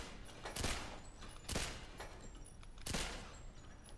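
Three separate gunshots ring out at targets in GoldenEye 007, spaced about a second apart, each a sharp crack with a brief tail, faint against a quiet background.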